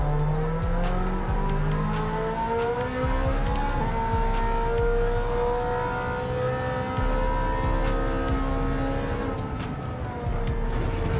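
Ferrari race car in Gran Turismo 7 at Laguna Seca, engine droning steadily with rising and falling gear pitches and occasional tire squeal, loud and continuous throughout.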